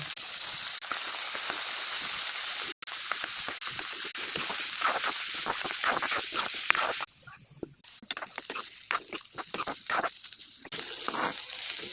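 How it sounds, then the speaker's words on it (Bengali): Spring onion greens hit hot oil in a pan and sizzle, a steady hiss that turns into irregular crackles and pops. "তেল গরম হয়ে গেছে, পেঁয়াজ পাতা দিয়ে দেব।"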